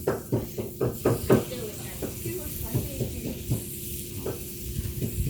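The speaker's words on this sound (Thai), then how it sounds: "ตอนนี้เราจะมา ย่างหมูครับ" Pork grilling on an Azerbaijani-style grill, with a steady sizzle and hiss under a series of soft, rhythmic scraping or turning sounds, while a person talks nearby.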